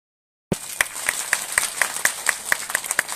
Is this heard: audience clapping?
yes